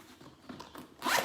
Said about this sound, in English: And it opens up with a zipper.